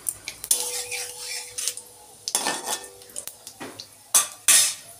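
A knife cuts a head of cauliflower for a potato curry, giving close, sharp, irregular chops and clicks with brief pauses and a couple of louder knocks.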